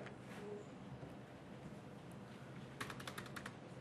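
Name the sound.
typing a command on a computer keyboard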